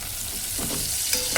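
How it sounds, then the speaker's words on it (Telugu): Brinjal pieces fry in hot oil with turmeric, a steady close hiss of sizzling with a couple of quick stirring scrapes near the end. "ముక్కలు అయితే ఎలాగే వేగినాయి చూడండి."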